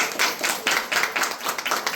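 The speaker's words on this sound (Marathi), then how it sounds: "म्हणून आपण टाळ्या वाजवून अभिवादन करू।" Audience applause ringing out in a hall in salute at a Marathi talk about Chhatrapati Shivaji, many hands clapping steadily in dense, rhythmic bursts for a couple of seconds, moderately loud with no speech over it.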